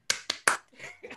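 Hands clapping in applause, a few sharp, close claps in quick succession followed by softer, scattered claps.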